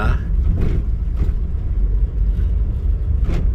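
Steady low road rumble from cars lined up in a traffic jam on the road at Dadap, Kosambi, Tangerang, with a few brief swells as vehicles pass nearby, continuous and fairly loud.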